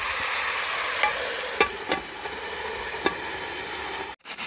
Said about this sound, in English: Now stir it around a little bit, and then we're gonna leave it to just cook slowly in its own juices.